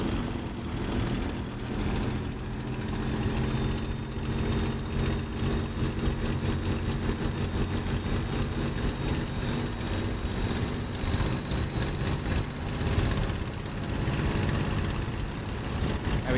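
Simulated Messerschmitt Bf 109 G-6 piston engine in Microsoft Flight Simulator revving up to about 2,300 RPM on the ground, a loud continuous propeller drone with a steady throbbing beat, no talking.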